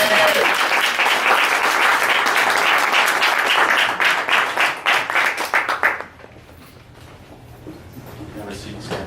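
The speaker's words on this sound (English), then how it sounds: "Give Sam a round of applause" A live show audience claps loudly for about six seconds as a volunteer is called up, then the applause drops away into quiet room noise.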